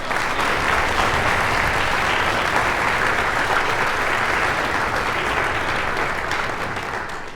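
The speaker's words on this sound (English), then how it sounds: "Can we give another round of applause?" Sustained audience applause fills a concert hall after a university orchestra performance, dense steady clapping from a large crowd that holds level throughout and tapers only slightly at the end.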